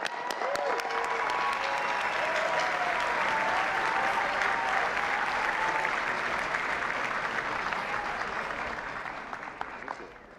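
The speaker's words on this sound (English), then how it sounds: "Thanks for keeping that applause going all the way, too." Sustained applause from a large audience at the White House Correspondents' Dinner, a dense roar of clapping that holds steady for about ten seconds and then starts to fade.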